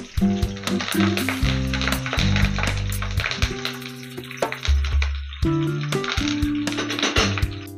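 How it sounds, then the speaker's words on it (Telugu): Eggplants frying in hot oil with mustard seeds, cumin, split green chillies and curry leaves, a steady close sizzle and crackle broken by scraping stirs, with music playing throughout. "కడిగి పెట్టుకున్న వంకాయలను మనం ఇలా ఆయిల్లో వేసుకొని ఫ్రై చేసుకుందాం"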